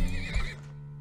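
A horse whinnies in the video game Turmoil, a short, loud, wavering neigh that fades out after about half a second, with a low hum continuing beneath it.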